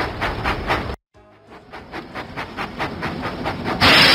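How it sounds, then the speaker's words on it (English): Steam engine puffing in a Thomas the Train children's video game, a steady rhythmic chuff of regular bursts that cuts out briefly, then resumes and builds toward a louder hiss at the end, with no talk. "Percy puffed proudly into Farmer Trotter's farm."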